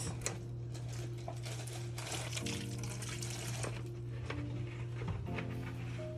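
Crabs being washed with running water for a seafood boil, a continuous splashing rush of tap water with some clattering and a steady hum underneath.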